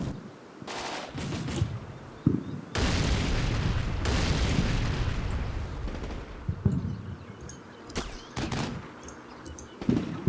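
Mortar and artillery fire thunders through a war video game: sharp gunshot bursts and deep booming blasts, with a long rumbling barrage in the middle and more scattered shots and explosions after it.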